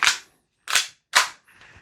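Three sharp snapping shots from a Tokyo Marui USP airsoft pistol with aggressive blowback, each crack spaced about half a second apart, followed by a softer fourth click as the slide cycles, close and alone.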